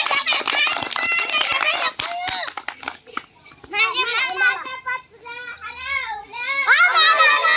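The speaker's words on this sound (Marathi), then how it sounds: "पळा फास्ट टाळ्या वाजा सगळ्यांनी" A group of children clap fast in quick bursts during a running chase game, the claps dense at first and then mixed with excited shouting and children's voices.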